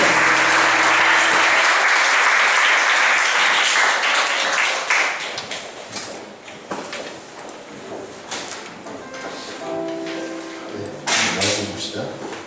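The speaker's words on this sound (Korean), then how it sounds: "우리 목사님 나오실 때 여러분 크게 박수로 환영해주세요." Congregation at a Korean Sunday church service bursts into loud, dense applause welcoming the pastor, a sustained roar of clapping that gradually thins into scattered claps with some voices mixed in.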